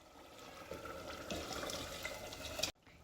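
Trotters broth being poured into a pot of mutton, a continuous splashing, gurgling pour that builds slightly and cuts off sharply near the end, close and fairly quiet.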